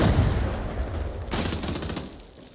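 Gunfire in the shooter game Arena Breakout Infinite, a close rapid burst of shots at the start and a second sharp volley midway, both fading quickly, with no speech.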